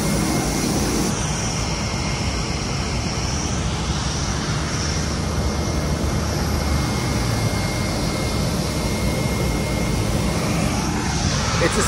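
Steady, loud aircraft engine drone from a retro-painted light airplane, a constant broadband roar filling the whole span with no talk over it.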